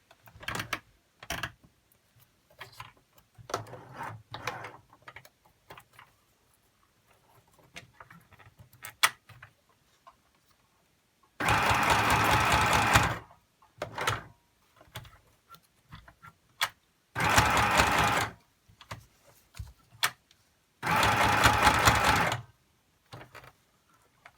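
Sewing machine stitching straight down a fabric ruffle for a junk journal, loud bursts of rapid mechanical whirring in three separate runs of a few seconds each, with small handling clicks and taps in between.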